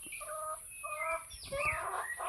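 A sick, lame chicken clucks and squawks in a series of close, fairly loud calls, with a louder rising cry partway through.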